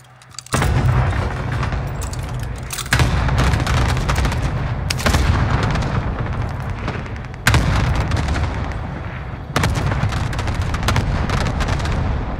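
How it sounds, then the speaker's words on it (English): Precision airstrike explosions in Call of Duty: Modern Warfare crash in as a series of loud, heavy blasts every few seconds, each sharp onset sustaining into a dense roaring rumble with scattered gunfire-like crackle, no talk. "Precision airstrike."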